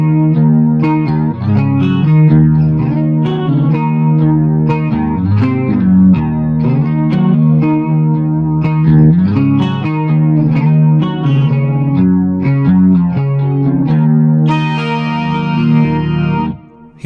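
Heavily processed electric guitar plays a riff with an effect blended in at about 40%, adding shimmering overtones above the chords; a steady, loud, sustained stretch of picked notes with no talking.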